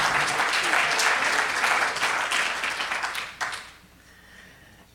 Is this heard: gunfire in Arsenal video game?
no